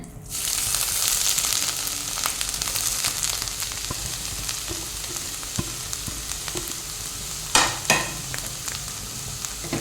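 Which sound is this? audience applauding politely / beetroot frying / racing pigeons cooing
beetroot frying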